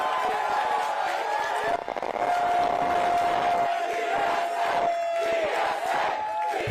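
A big rally crowd cheers, whoops and claps loudly and without break, with a long whistle cutting through the roar.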